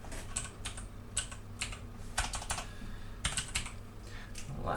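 Bursts of quiet clicking keystrokes on a computer keyboard, coming in irregular clusters with short pauses between them, close by.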